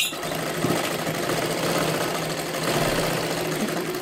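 Sewing machine stitching a size 40 katori blouse, a loud, close, continuous mechanical whirr with a rapid needle rhythm running steadily for about four seconds.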